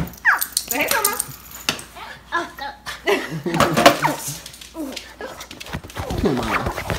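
A pet dog makes yips and whimpering noises amid excited household chatter and laughter, with people talking throughout at close range.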